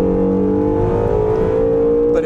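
A Honda NSX engine revs high to 7,500 rpm and holds steady at the limiter, a loud sustained harmonic whine with a brief bounce at the end.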